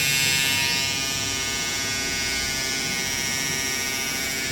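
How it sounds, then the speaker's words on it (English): An electric hair trimmer cutting a hairline buzzes with a loud, steady, close hum, running alone without any talk. "Taking my trimmer, I'm going to go here."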